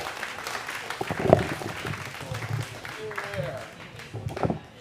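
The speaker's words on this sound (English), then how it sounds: "Clap for me now." A comedy club audience claps and applauds at moderate volume, with scattered cheers and voices mixed into the crowd noise.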